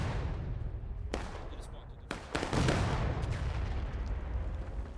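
Cannon fire in War of Rights, a Civil War multiplayer battle on the Farmlands map with 300 players: several sharp booms boom out among steady battlefield rumble.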